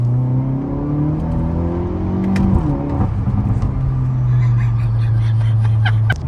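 A Hyundai Elantra N engine pulls hard through the gears, loud rising revs with a brief drop at a shift, then a sustained high drone; faint voices and a crackle ride on top.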